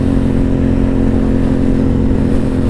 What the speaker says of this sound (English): Hit a little downshift.